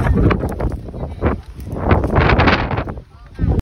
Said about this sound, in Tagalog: As kung narinig nyo nga kung gaano kalakas yung hangin, as in sobrang lakas ng hangin